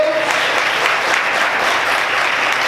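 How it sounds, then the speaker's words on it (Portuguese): A church congregation applauds during a Sunday morning service, a dense, continuous wash of many hands clapping at once, loud and sustained with no single clap standing out. "Você pode aplaudir ao nome do Senhor nessa manhã"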